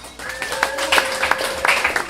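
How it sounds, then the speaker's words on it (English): Bar crowd at a comedy show clapping hands, a steady patter of applause with a few sharper peaks, moderately loud and close, with no talk over it. "clap your hands if the bar has been treating you nicely"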